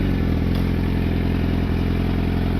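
A motorcycle engine idles in first gear with the clutch pulled in as the bike is walked slowly forward, a steady low mechanical rumble and clatter with no revving, close and constant.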